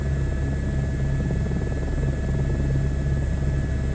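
A helicopter flies in Microsoft Flight Simulator 2024, a steady loud rotor drone with a low thumping pulse and engine whine filling the whole stretch without talk.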